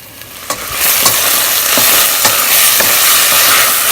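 Vegetables for fried rice sauté in a hot pan with a loud, close, unbroken sizzle, punctuated by a few soft clacks and scrapes as they are tossed, no talking.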